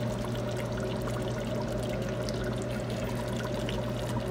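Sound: water poured into pot of fish miso soup

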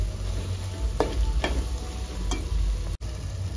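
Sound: mutton with methi frying and being stirred in pan

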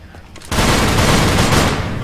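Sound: heavy machine gun fire in a video game

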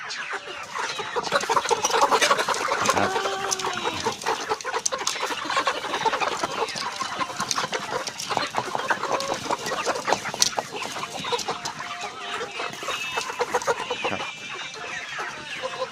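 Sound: chickens clucking

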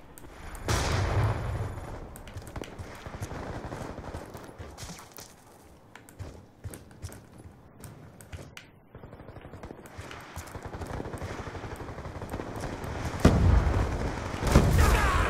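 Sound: gunfire in the video game Black Ops 2

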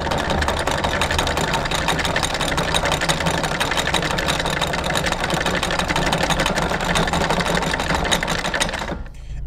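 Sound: anchor windlass raising anchor chain

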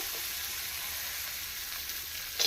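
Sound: cashews and raisins frying in ghee

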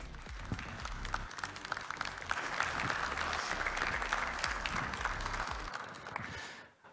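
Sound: audience applause welcoming a conference speaker

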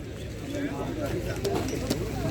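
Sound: pigeons cooing

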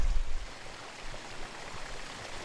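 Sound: hot spring fumarole pool bubbling and dripping

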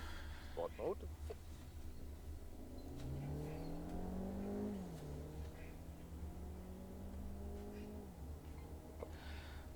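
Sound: Skoda Kodiaq 1.5 TSI plug-in hybrid accelerating

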